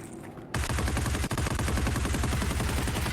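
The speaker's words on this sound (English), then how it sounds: "the home PKP of HyperRat taking out Viben" A PKP machine gun fires in a competitive Rainbow Six-style match on the Equator map, a dense and sustained burst of rapid automatic shots that is loud and close, breaking in after a brief quiet moment.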